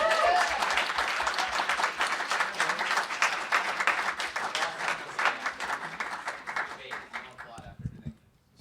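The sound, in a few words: applause at a student union meeting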